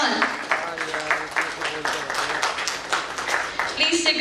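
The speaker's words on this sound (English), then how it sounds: "let's have a huge round of applause." Audience applause at a formal speakers' welcome event, moderate clapping running throughout with a host's voice and other talk over it, fairly close.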